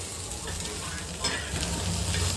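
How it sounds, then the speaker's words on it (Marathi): Rice heats in a pan with continuous sizzling and frying, and scraping stir strokes pass over it in a close, steady hiss. No one talks. "इथं भात गरम करत आहे."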